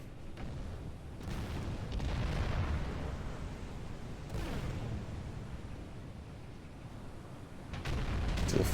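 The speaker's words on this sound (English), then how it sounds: "A lot of explosions." Naval gunfire and shell explosions from the warship video game Battleship Command rumble continuously, with repeated deep booms and bursts rising over a dense, loud battle din; no one talks.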